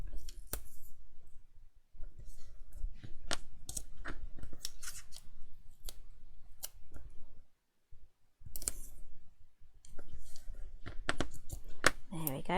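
Paper tape is cut against the right-angled edge of an acrylic block in a series of close, crisp snips and clicks, with short pauses and a brief silence between cuts.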